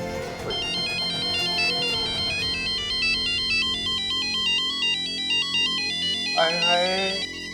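A melodic mobile phone ringtone plays continuously for an incoming call in a Hindi TV drama scene, with repeating electronic tones, under faint background music.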